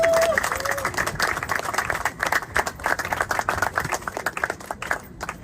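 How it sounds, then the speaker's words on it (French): Audience clapping at an official gathering honouring directors of religious groups and associations, a scattered applause that starts strong and thins out, with a voice heard over it early on. "je vous demande d'applaudir"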